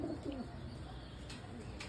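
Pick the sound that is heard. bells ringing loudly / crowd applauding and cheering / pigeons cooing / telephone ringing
pigeons cooing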